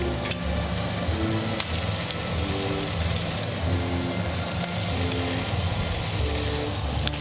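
Thin smash burger patties sear on a hot griddle with a steady, loud sizzle and crackle that continues unbroken throughout, with a few faint scraping ticks and a low background hum underneath.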